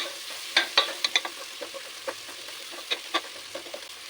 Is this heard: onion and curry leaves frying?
yes